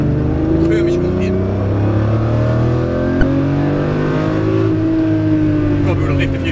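A Ferrari supercar accelerates steadily around the Hampton Downs race track, its engine note rising and falling in long smooth sweeps, loud and close throughout with a brief click midway.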